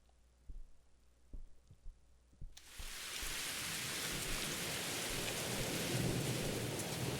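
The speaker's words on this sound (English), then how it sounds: "There we go, there's the spooky thunderstorm again." A thunderstorm in the horror video game Mothered: a few soft thuds, then a sudden loud rush of heavy rain that keeps going with low thunder rumbling underneath, with no speech.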